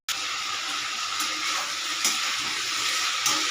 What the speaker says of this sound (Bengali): কড়াই তেল গরম হয়ে সবজিগুলো দিয়ে দিলাম।